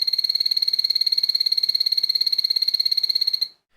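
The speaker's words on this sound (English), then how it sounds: "Epipedobates anthonyi is definitely not a species for everyone, since they have an extremely loud, high-pitched call" An Epipedobates anthonyi poison dart frog gives its loud, high-pitched call: a fast, steady pulsed trill that runs close and unbroken for about three and a half seconds, then stops abruptly.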